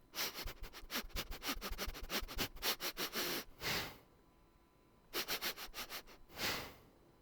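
Quick repeated sniffs in bursts close to a camera inside VRChat, running in rapid clusters with short pauses between, faint overall and with no talking.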